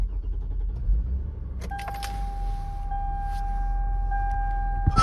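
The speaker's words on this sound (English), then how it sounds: "start the ignition." A car's ignition being switched on before reversing, giving a brief mechanical whir, then steady electronic tones over a low engine rumble inside the car, with no talking.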